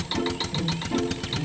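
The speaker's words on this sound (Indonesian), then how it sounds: "Pada kesempatan ini, kita akan ditemani oleh traktor." A tractor engine chugs with a steady, rapid knocking rhythm, running close and moderately loud without any voices.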